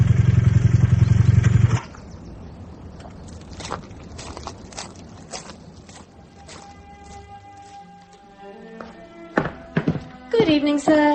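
A motorbike pulls away on a low idle, then cuts out. A run of sharp taps and knocks follows, and tonal sounds build near the end. Some speech is mixed in.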